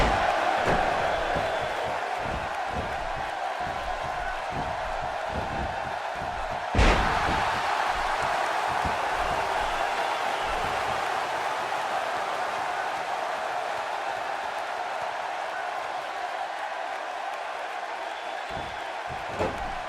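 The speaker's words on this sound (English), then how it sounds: "This crowd is jacked." Arena crowd noise from the WWE 2K16 wrestling video game during a Stone Cold Steve Austin match, a steady roar of cheering with one sharp slam near the middle and faint commentary mixed underneath.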